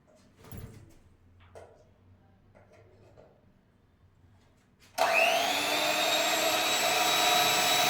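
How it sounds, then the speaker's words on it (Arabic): An electric hand mixer starts up loud and steady partway through, whirring continuously as it beats eggs, after quieter kitchen handling sounds. "بالمضرب الكهربائي"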